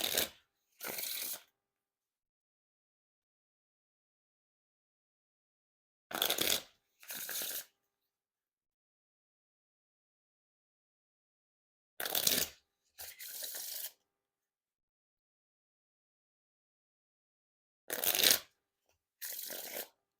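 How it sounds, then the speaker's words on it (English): Riffle and bridge shuffles of an Orbit Mac Lethal playing card deck, four separate bursts spaced about six seconds apart, each a quick close crisp fluttering riffle followed by a softer cascade, with silence between. "Now time for the riffle shuffle or bridge shuffle."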